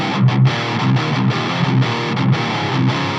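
Distorted electric guitar played through a Nembrini Audio amp simulator plugin, a thick, saturated riff of chugging chords with rhythmic palm-muted pulses, loud and alone with no voices.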